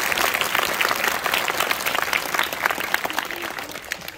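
Audience applause after a Punjabi street play staged at a school, a dense, steady round of clapping that holds strongly for about four seconds with no voices over it.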